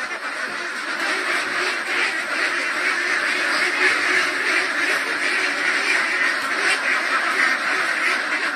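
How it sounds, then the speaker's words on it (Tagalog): Newly transferred ducks on a Philippine duck farm quacking steadily as a dense flock, a continuous loud chorus of overlapping calls throughout with no talk. "yung ating mga itik na bagong transfer"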